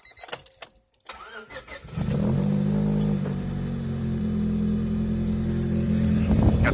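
After a few faint clicks and handling sounds, a Honda D16-engined car starts up and settles into a steady idle, close by and with no talk. The idle was recently fixed.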